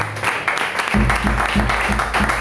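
Congregation in a church applauding and cheering together, a steady dense wash of clapping and voices with rhythmic low thumps, loud and close throughout.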